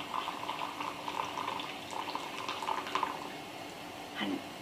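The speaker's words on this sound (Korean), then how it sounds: "80cc 정도의 물이 들어가도록 물을 부어줍니다." Water is poured into a tea bowl to about 80 cc during a Japanese tea gathering. A soft, continuous trickle and gurgle plays close by, followed by a brief clink near the end, with no talk.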